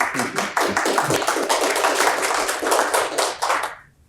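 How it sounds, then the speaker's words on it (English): An audience at a conference talk breaks into dense, sustained applause, many hands clapping together for nearly four seconds before it quickly fades out. "Waiting for applause."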